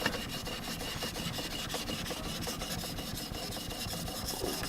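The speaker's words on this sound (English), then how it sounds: "I'm going to switch back over to the 1000 grit now." Okatsune pruning shears are sharpened on a 1000 grit whetstone, with steady rhythmic rasping strokes of steel rubbing across the stone, close and moderately quiet, with no talking.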